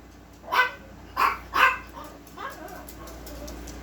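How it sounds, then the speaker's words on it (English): A dog in a home barks three sharp, close barks in quick succession, followed by a fainter softer bark, with light room hum in the background. "My goodness, Red, you wolfed."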